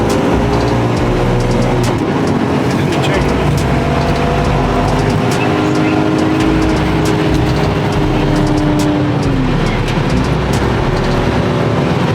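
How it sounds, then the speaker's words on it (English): A BMW E46 M3 with an SMG gearbox after a CSL software flash, heard from inside as a loud, continuous engine drone whose pitch rises and then drops with a downshift near the end, with no voices. "Oh, that downshift is so much better."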